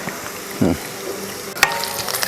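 Curry leaves drop into hot oil in a frying pan of prawn masala, giving a brief crackling sizzle, then a soft steady frying hiss and light stirring.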